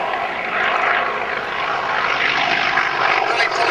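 A Russian biplane flies an aerobatic display sequence, its propeller engine droning loud and steady with a rising and falling tone as it manoeuvres overhead.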